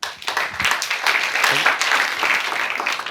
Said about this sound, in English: So please, round of applause for Patrick.